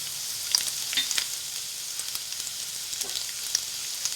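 Garlic and green chillies fry in hot oil in a pan, a steady close sizzle with small crackling pops throughout and no talk.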